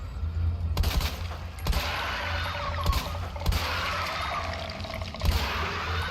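Gunfire from the video game Resident Evil 2 Remake: about six sharp shots at irregular intervals over a steady bed of game ambience, loud and close, with no talk.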